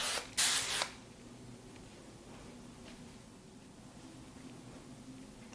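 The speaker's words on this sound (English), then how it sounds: "A little texturizing spray." A can of texturizing hair spray gives one short, loud hissing burst of about half a second, sprayed close onto styled hair, followed by quiet room tone.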